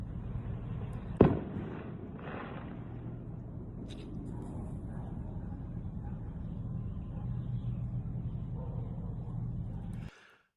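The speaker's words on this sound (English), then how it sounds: "Fireworks are so fucking stupid." A single sharp firework bang goes off outdoors, followed by a steady low rumbling background that continues for several seconds before cutting off.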